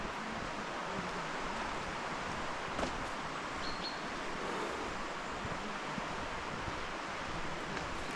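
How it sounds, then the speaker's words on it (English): A large river flows along a nature walk in Wales, its steady full rushing roar continuous and even throughout, with faint wind and an occasional bird chirp. "This river is massive."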